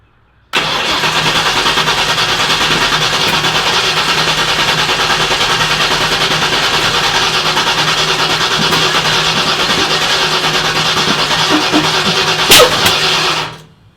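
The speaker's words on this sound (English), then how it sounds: "You're definitely getting some fire juice coming out because you backfired." A car engine fires up for its first start and holds a steady, loud, close rumble for about thirteen seconds, with a brief sharp pop near the end before it cuts off.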